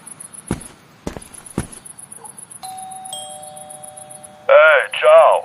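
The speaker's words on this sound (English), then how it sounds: "I hope he can hear the bell now." A synthetic two-tone doorbell chime in the video game Detective Hayseed rings clearly after some clicks and thumps, followed by a loud squealing electronic chirp.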